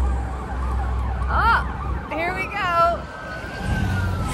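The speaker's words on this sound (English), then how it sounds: "Sirens." Emergency vehicle sirens wail and rise and fall as they pass through a city street in Lomita, heard over a low rumble of traffic, with a person speaking briefly.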